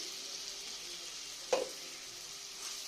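Spice paste frying in oil for a Katla fish poppy-seed dish, a faint steady sizzle throughout with one brief scrape or clink midway.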